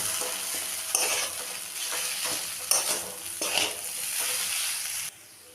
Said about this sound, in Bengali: এখন আমি সবগুলোকে ভালো করে মিশিয়ে নেব।